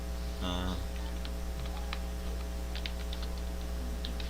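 Keystrokes on a computer keyboard while coding in Python: a brief cluster of typing taps, then a few scattered clicks over a steady electrical hum, close and moderately quiet.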